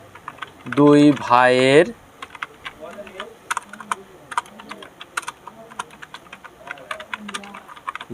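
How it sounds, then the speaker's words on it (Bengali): Keys on a computer keyboard are tapped in quick, irregular bursts of close clicks, preceded by a short spoken phrase. "আমার টাইপিং স্পিড যা আছে আলহামদুলিল্লাহ এটা আমার কাজ চলে যায়"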